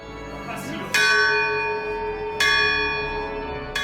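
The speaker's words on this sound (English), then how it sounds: "after praying and ringing the shrine's bell" A shrine church bell in the Pyrenees mountains is struck three times at spaced intervals, each clang bright and resonant with a long ringing decay that overlaps the next strike.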